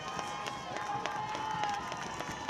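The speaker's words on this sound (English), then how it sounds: "The crowd here at Sid Cichy Stadium getting loud" A large crowd at a high school varsity football game at Sid Cichy Stadium roars steadily with a broad, continuous wash of cheering and shouting, no single voice standing out.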